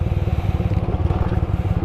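Motorcycle engine running close by with a steady, pulsing low throb, as if revved in traffic, loud and continuous with no talk over it.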